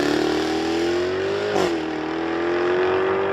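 A 2022 Jaguar F-Type P450 sports coupe engine drones loud and close, its revs climbing steadily with a brief dip partway through, then rising again, with no talking.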